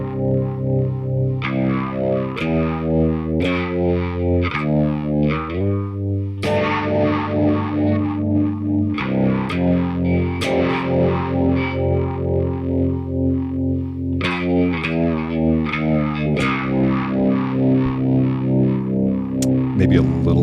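Distorted guitar with a chorus-like wobble, its signal split into low and high bands at 800 Hz, playing sustained chords and notes steadily, loud and alone, with no talk over it.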